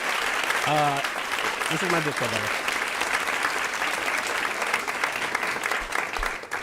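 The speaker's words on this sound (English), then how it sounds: "Round of applause for Nogla." An audience applauds a guest named Nogla with sustained, dense clapping that fills the whole stretch, while someone talks over it.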